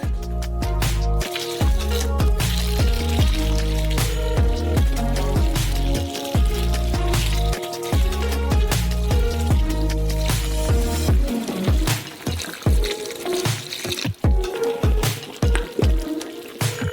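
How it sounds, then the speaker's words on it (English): Eight liters of hot milk poured into a pot of caramel for a giant ice cream, a continuous liquid splashing and gurgling over background music, ending in a few wet drips and squishes. "Now you just need to pour in 8 liters of hot milk."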